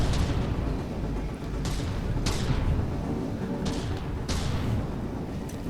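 Heavy railgun shots from the Ryujin battlecarrier in a huge ship battle, several sharp cracking blasts a second or so apart over a deep, continuous rumbling roar of combat.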